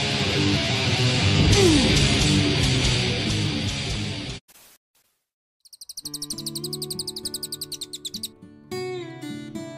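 Cililin, a small insect-hunting bird, sings in a tropical Indonesian forest: one noisy stretch of chirping, then after a pause, clear sharp repeated whistled notes in rapid rhythmic runs, fairly close and loud.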